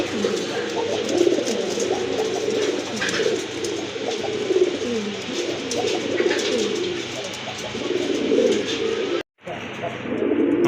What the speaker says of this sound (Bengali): আর জোড়া কবুতর চলে আসছে দেখতে পাচ্ছেন